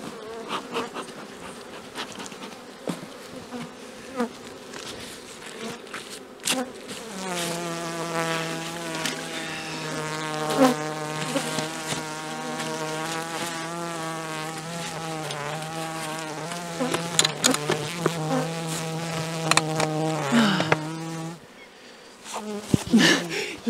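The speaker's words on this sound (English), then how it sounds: "Let's run away from the crazy bees." Crazy bees buzzing during early spring maple sap collecting: a dense, sustained swarm drone that thickens midway into a loud steady hum with shifting overtones, then cuts off near the end.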